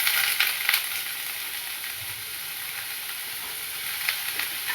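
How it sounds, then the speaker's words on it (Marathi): Onion, capsicum and spring onion fry in hot oil for veg fried rice, a steady close sizzle and hiss that holds even throughout, with faint stirring bursts and no voices. "त्यासाठी पहिले तेल गरम करून घेतलं आहे, कांदा टाकला आहे आणि त्याच्यामध्ये शिमला मिरची, कांद्याच्या पातीचा कांदा"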